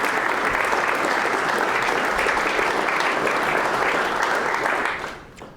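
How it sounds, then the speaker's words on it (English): Sustained round of audience applause at a tech meetup on decentralised computer vision, steady dense clapping for about five seconds before tapering off, with no talk over it. "So if you have a big round of applause for Max from Score."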